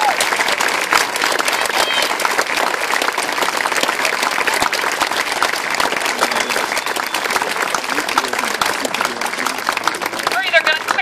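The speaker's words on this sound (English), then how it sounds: "Now you can give them a big round of applause." Audience applause at a marching band camp ceremony, a dense sustained wash of clapping for band members being recognised, with voices and cheers mixed in throughout.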